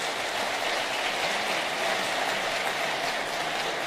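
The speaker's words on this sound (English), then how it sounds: "Let's give her a strong round of applause." Sustained applause for New York City's First Lady Chirlane McCray at a State of the Borough event, a dense, even wash of clapping from a sizable crowd that stays steady throughout.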